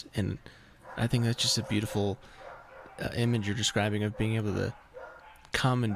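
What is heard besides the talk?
dogs barking outside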